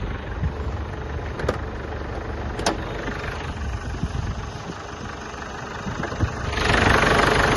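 A 2008 Mazda BT-50 pickup with a 2.5 engine idling nearby, a continuous rough diesel rumble with a couple of sharp clicks early on and the engine note rising slightly near the end.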